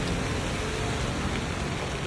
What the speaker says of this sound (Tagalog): Kami dito, maulan, malamig.